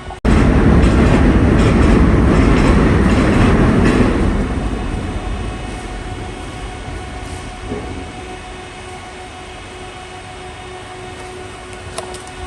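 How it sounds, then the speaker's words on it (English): Long Island Rail Road commuter train bound for Penn Station rolls past on the main line, loud rumbling and clattering at close range for about four seconds, then fading away into a lingering distant hum. "Another Penn Station bound train at 7:22 just passing by."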